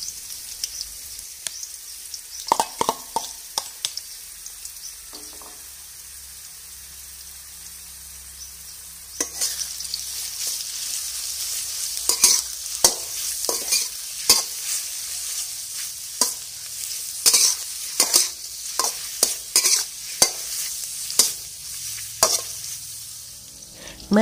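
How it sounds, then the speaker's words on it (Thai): Shiitake mushrooms stir-fry in hot vegetable oil in a wok, a steady sizzle broken by sharp clattering scrapes and stirring strokes that come faster and louder in the second half, with no voices. "ใส่น้ำมันพืชลงไปในกระทะนะคะเมื่อน้ำมันร้อนให้เพื่อนๆใส่เห็ดหอมนะคะลงไปผัดให้สุกก่อนเลยค่ะ"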